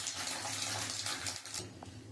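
Sago chanachur frying in hot oil, a steady bright sizzling hiss with crackling bubbles, close and continuous before easing slightly near the end.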